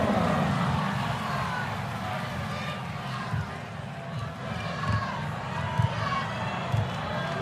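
Crowd noise in an arena at an Iowa vs Virginia Tech women's basketball game, a steady roar of voices under a commentator talking, with sneaker squeaks and brief bumps rising through it.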